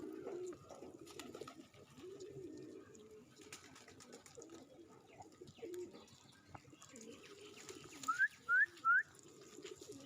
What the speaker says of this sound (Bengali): এই যে কবুতরটা পাওয়া গেছে